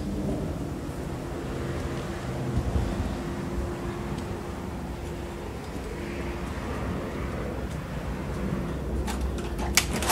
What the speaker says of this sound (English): Big old gust of wind came up.